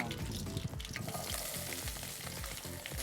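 Onions sizzle and fry loudly in a hot pan, with a dense crackle and some stirring scrapes, close up and with no voices.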